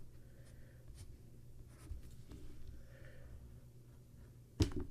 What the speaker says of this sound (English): It's been a while since I've used colored pencils.